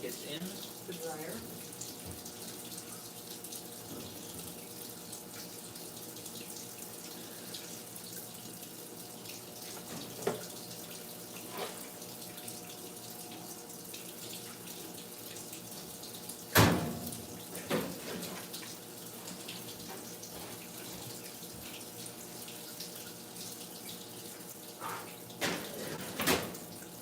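Water pours steadily into an Amana direct drive washing machine, a continuous hiss and splash at weak pressure, with occasional clunks and a sharp knock partway through.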